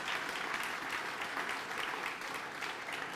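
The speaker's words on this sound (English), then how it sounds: "let's give a round of applause" Applause from a church congregation fills the room, a steady wash of many hands clapping at an even level throughout, with no talk over it.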